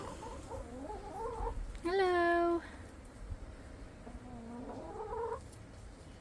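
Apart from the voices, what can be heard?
backyard chickens clucking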